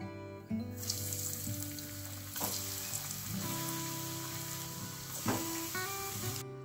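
Snack balls deep-fry in hot oil with a continuous close sizzle that swells at a few moments, with faint clinks from a utensil.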